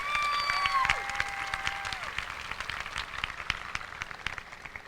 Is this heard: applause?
yes